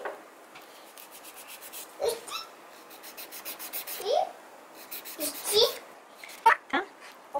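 A 180-grit file shapes the edge of a gel nail extension in quick bursts of rhythmic, raspy strokes, close and fairly quiet, with a voice speaking between the bursts.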